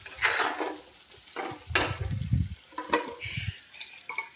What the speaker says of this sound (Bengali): অ্যাড করে হালকা নেড়ে চেড়ে সমস্তটা মাছের সঙ্গে মিশিয়ে নেব।